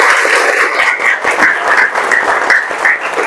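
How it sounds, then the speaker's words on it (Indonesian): Vocational high school students in a classroom give a loud, dense round of applause that fills the room steadily and continuously, with no talking over it. "Tepuk tangan yang keras"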